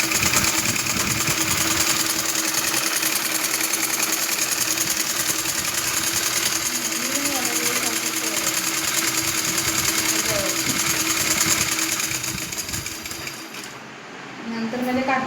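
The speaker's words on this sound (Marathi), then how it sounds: "मशीन आपली चालू करायची" A domestic sewing machine runs continuously in a tailoring class, its steady whirring motor and rapid needle clatter holding close and even for most of the span before easing near the end, with faint speech around it.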